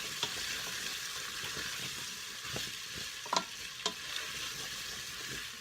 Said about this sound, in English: Just cook that for just a minute or 2, constantly stirring so as to not have it stick on the bottom